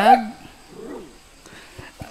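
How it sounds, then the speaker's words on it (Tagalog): A dog gives a short yelp and some soft whimpers, with quiet voices of people talking in the background. "ayan nga pala yung mga alagang aso ni nanay"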